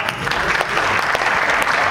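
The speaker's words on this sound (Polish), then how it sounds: "brawa dla Marcina" An audience at a live show claps for Marcin, steady dense applause with no breaks, close and moderately loud, with a voice faintly underneath.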